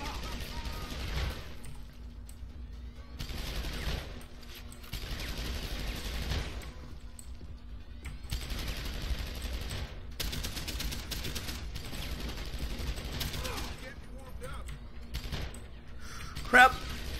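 Gunfire in the game Deus Ex: Human Revolution comes in repeated rapid volleys, separated by short gaps, over a steady low background hum, with a player's voice speaking now and then.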